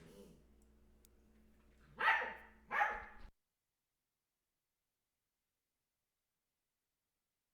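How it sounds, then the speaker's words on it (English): Two loud dog barks in quick succession from pups in a home, nearby and distinct over faint room hum, then silence. "The pups are very noisy."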